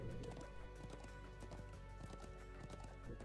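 Hoofbeats of a horse in the video game Trails of Cold Steel 2, an even run of clip-clops over a game soundscape.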